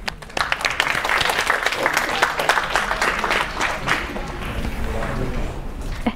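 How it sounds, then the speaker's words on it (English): An audience at a UX summit session applauds a volunteer, with close, distinct claps forming a lively, uneven round that starts abruptly and holds steady before gradually thinning. "Give an applause."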